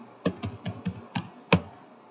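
Six distinct keystrokes on a computer keyboard while entering a command in the Windows Command Prompt, irregularly spaced, close and crisp, the last one a louder press like the enter key.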